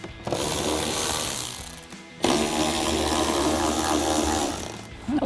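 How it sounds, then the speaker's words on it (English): Ratchet with an extension and 10mm socket backing bolts out of the airbox on a 2014-2019 Corvette C7, a steady close-up stream of rapid clicking that pauses briefly near the middle and then resumes. "Grab our ratchet, extension, and 10mm socket. Take those two out."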